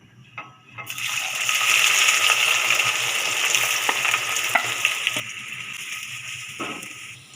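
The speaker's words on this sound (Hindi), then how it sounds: "यहाँ पर मैंने कढ़ाई में ऑयल ले लिया है, और अब इसमें शामिल करेंगे हम प्याज" Onions frying in hot oil in a kadai, a loud steady sizzle that flares up as they hit the pan and runs on evenly, with a few stirring clinks and taps near the end.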